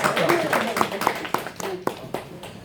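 A church congregation at a Sunday Christmas service claps in a short, uneven patter of hand claps, with voices speaking over it.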